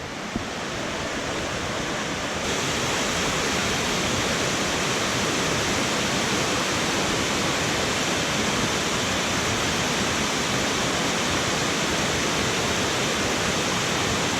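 Waterfall cascading in western North Carolina, a loud, steady broadband roar of falling water that fills the scene without letup, heard up close and without any voices.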